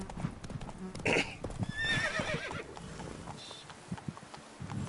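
A horse in The Witcher 3 gallops with rapid clip-clop hoofbeats and snorts, and a loud whinny rings out midway over faint game ambience.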